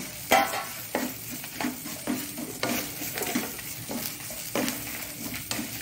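Spices and grated coconut dry-roasting in a pan over medium heat for Mangalorean sorekai sambar, with a spoon scraping and stirring in repeated strokes over a soft sizzle, close and steady.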